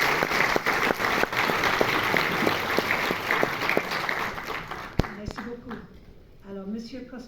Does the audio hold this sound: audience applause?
yes